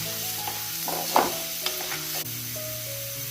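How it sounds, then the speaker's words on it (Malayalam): Finely chopped garlic frying in oil for a green mango chutney, a constant sizzle under a low hum, with a couple of sharp clinks and scrapes from the pan and spoon. "വെളുത്തുള്ളി ചെറുതായി അരിഞ്ഞത് ഇട്ട് വെക്കുക. നന്നായി മൂപ്പിക്കുക."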